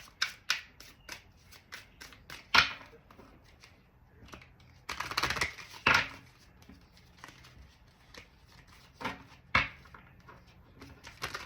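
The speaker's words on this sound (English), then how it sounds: "Let me shuffle." Tarot cards being shuffled repeatedly up close, a steady run of crisp riffling flutters and soft taps, with a few louder bursts and no talking.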